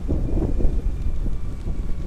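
Steady wind buffeting the microphone while parasailing in Boracay, a rough low rumble with gusty swells and no voices.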